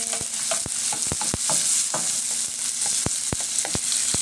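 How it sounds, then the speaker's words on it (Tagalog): Tomatoes and white onions being sautéed in a pan, with a close sizzle and sharp, regular scrapes and taps of a spatula against the pan, no voices. "nagigisa po ako ng kamatis at sibuyas na puti"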